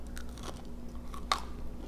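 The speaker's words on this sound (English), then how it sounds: "You hear that crunch? Crispy, baked onion rings." Crispy baked onion rings are bitten and chewed up close, with a few soft crunches building to one sharp, loud crunch and quieter chewing after, no talking.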